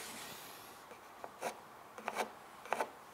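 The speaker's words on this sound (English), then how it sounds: "Put a pencil mark right there." Pencil marking wood window trim, three short quiet scratchy strokes spaced about half a second apart, close and faint against a low background hiss.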